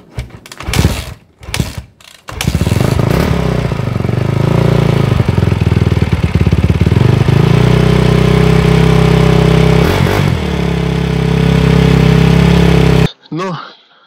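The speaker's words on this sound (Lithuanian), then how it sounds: "Toks motociklėlis." A Kinietis RX450 motocross motorcycle engine idles steadily and loudly up close for about ten seconds, with a brief revving sputter before it settles and a sudden cut at the end.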